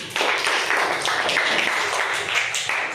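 Enthusiastic applause from a crowd at a children's quiz game, steady and loud for a few seconds with dense clapping throughout.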